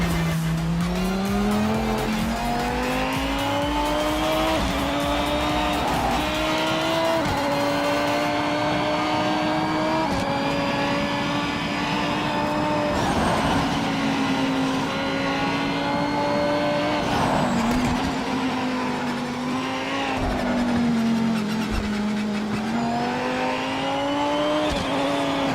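A race car in a VR racing game engine whines through a chicane, the pitch rising and dipping with gear changes and throttle lifts, and tires squeal at intervals. The sound is continuous and loud, with no talk.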